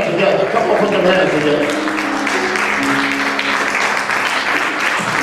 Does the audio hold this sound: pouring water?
no